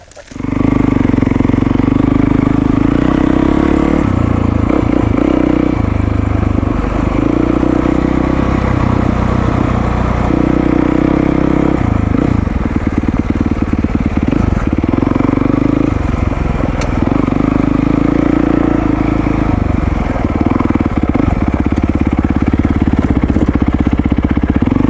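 Yamaha WR450 dual sport motorcycle engine running steadily on an Arizona trail, loud and close, its drone rising and falling with throttle and clattering over rough ground throughout.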